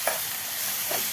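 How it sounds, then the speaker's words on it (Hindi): Chicken kebab mixture with mayonnaise being stir-fried in a pan, a brief soft scrape of a spoon or spatula over a steady sizzling hiss. "अब मैं इन्हें अच्छी तरीके से भून लूंगी"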